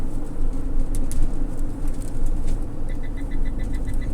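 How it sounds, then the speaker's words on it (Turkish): Lane keeping assist warning in a motorhome cab: a repeated chime of about eight short, even beeps in quick succession near the end, set over a steady engine and road drone. "Bu öten şerit takip sistemi."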